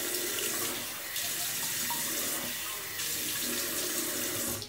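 Tap water pours steadily into a sink as alum is rinsed off during a shave, a close, continuous splashing rush that changes slightly as hands move under the stream.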